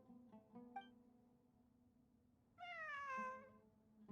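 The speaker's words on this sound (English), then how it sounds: "It really is a cat." A cat meowing in the video game Genshin Impact, a few short soft mews followed by one longer, clearer drawn-out meow, quiet against a calm background.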